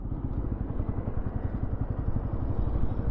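A 2025 Bajaj NS200 motorcycle rolls along in second gear with no throttle, giving a steady low, pulsing engine thrum that stays close and constant throughout, with no talking.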